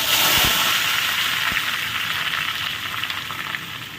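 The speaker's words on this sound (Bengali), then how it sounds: "দিয়ে এবার সবজিগুলোকে ভালো করে ভেজে নেব।" Vegetables fry in hot oil with bay leaves for a bamboo shoot chorchori with mustard and poppy seed paste, a constant loud sizzle with a couple of soft knocks at the start.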